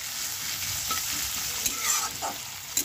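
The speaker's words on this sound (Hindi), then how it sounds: "अब इसको अच्छे से मिक्स कर लेंगे प्याज को।" Onions and mushrooms fry in a pan while being stirred, a steady close sizzle running throughout with scattered scrapes and clicks from the spoon moving the food.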